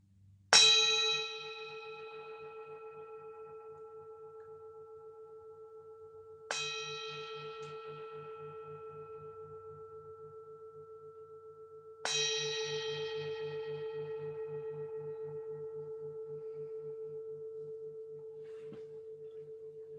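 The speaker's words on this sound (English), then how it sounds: "finally the bell" A meditation bell is struck three times at even intervals of about six seconds, each ring bright and clear, then left to decay in a long, steady hum in a quiet room.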